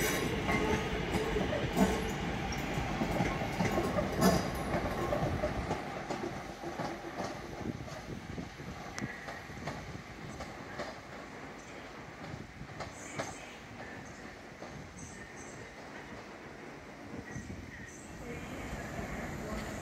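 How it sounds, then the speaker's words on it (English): A Class 323 electric multiple unit pulls into Manchester Piccadilly station, a steady rumbling roll with rail clatter that is loudest at first and then eases to a lower, even drone, with people talking nearby. "I believe there is also another 323 coming in now."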